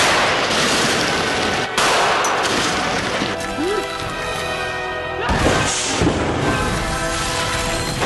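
A special-effects sheet of ice shatters on a film set in a loud crashing burst with a long roaring, crackling wash that swells again partway through.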